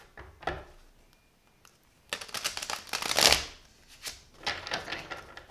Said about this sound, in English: I still can't shuffle these cards very well